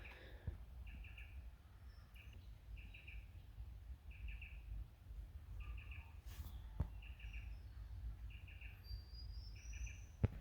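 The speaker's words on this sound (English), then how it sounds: "There's an interesting bird noise coming from up in the trees." A bird calls from up in the trees of a bush setting, repeating a short chirping phrase at steady intervals, fairly distant and clear over a low outdoor rumble.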